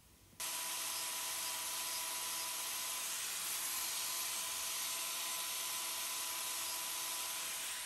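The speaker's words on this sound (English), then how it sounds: "Notice as I dish this out with my grinder, I'm going to start at that dot and work upwards." A power grinder dishes out a horse's hoof wall, starting abruptly and then running as a steady, loud, close high whine with a constant rasp, and no talk.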